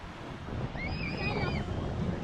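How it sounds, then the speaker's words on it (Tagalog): Rough sea surf crashes near the shore at Baler, a loud, continuous roar of breaking waves buffeted by wind on the microphone, with a faint voice briefly over it. "Nagwawala ang dagat."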